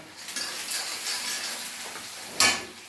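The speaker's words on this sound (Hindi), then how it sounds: "चावल चला दिया" Rice stirred in a cooking pot gives a steady close rustling hiss, broken near the end by one louder scraping knock of the spoon against the metal.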